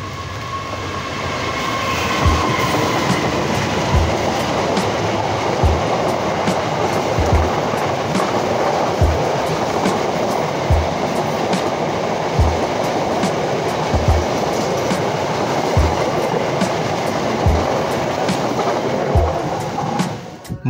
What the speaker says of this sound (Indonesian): akan melintas kereta api Argo Parahyangan rangkaian KA Gajayana